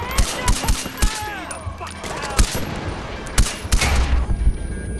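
Heavy gunfire and explosive impacts in Far Cry 4, a loud irregular barrage of sharp cracks and thumps mixed over a busy combat din, with voices faintly underneath.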